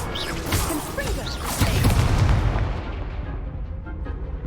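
A Confringo fire spell bursts in a wizard game, a rumbling fiery blast swelling into a dense explosion that peaks after a second and a half, then fades into a low trailing roar.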